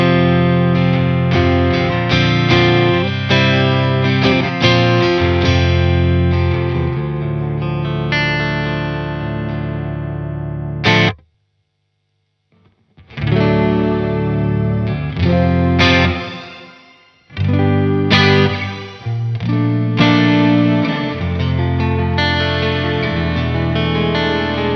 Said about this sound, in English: You can hear the shimmer kicking in, adding those harmonies in there.